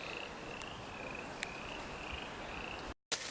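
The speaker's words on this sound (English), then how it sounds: "I hear all these frogs out there." Frogs croak steadily at night in the open, a dense chorus of thin, high trills running through the whole stretch, with a couple of sharper calls standing out briefly near the recorder.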